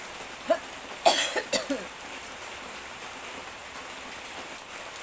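Steady rain falls in a soft, even hiss, broken by a few close coughs and throat-clearing sounds early on.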